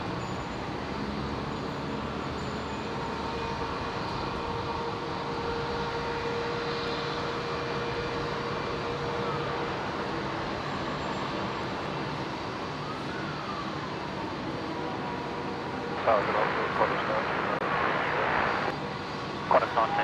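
Velocity 947 airliner arriving from Sydney at Brisbane International Airport: a steady jet engine roar that holds throughout, with louder bursts of noise near the end.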